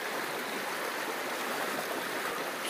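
An amethyst stone is rinsed under running tap water, which makes a steady, even rush of flowing, splashing water throughout, close and alone with no voices.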